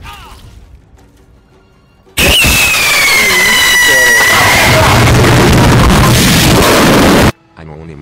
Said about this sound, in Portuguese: Anônimo soltou um rojão de qualidade extremamente duvidosa, deixando todos surdos